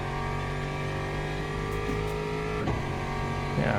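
Race cars in the video game Le Mans Ultimate produce a continuous engine whine that rises and shifts pitch as other cars pass close by, with gear changes near the end.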